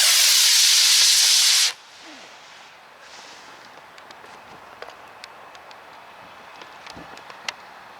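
A model rocket motor fires at launch, giving a loud, close roaring hiss that cuts off sharply after about two seconds, followed by faint ticks and quiet outdoor ambience.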